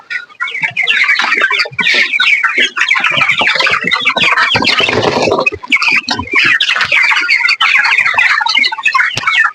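A dense flock of broiler chickens clucking nonstop on a poultry farm, loud and close, with overlapping calls filling the whole stretch and no voices.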